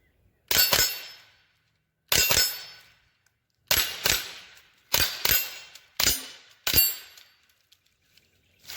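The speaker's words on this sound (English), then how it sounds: "So let's take a few shots here." Six sharp shots from a Rossi RS22 .22 rifle fired at targets outdoors, each a crisp crack with a short decaying tail. They come singly or in quick pairs, spaced over several seconds, close and loud with quiet gaps between.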